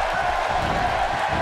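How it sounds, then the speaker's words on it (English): A Houston arena crowd in a WWE 2K wrestling game roars in a continuous loud, dense wash of cheering throughout. "this Houston crowd is just like everything in Texas, big and loud."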